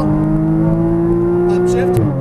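A Porsche Cayman GTS engine pulls at full throttle on a racetrack, a loud, steady in-car drone that climbs slowly in pitch before a brief dip near the end, with a driving coach's voice over it.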